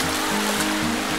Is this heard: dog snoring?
no